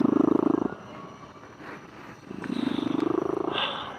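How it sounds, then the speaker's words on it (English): Pet cat purring close to the microphone, a loud rhythmic rumbling purr in two long bursts separated by a quieter pause. "Oh, sorry guys, that's my cat"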